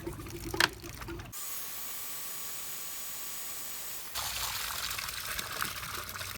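Water rushing steadily through a Hayward Pro Grid DE pool filter set to rinse, a constant broadband hiss that begins abruptly after a short burst of noise, then shifts to a rougher, louder flow near the end.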